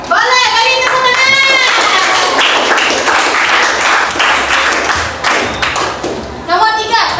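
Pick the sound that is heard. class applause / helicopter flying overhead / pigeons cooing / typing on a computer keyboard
class applause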